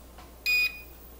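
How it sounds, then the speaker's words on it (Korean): A single short, bright electronic beep from an Eachine Mini Mustang P51D RC plane with a 6-axis gyro as it powers on, clear and close against a quiet background. "삐 소리가 나고 육축 자이로가 잡히는 소리가 나거든요"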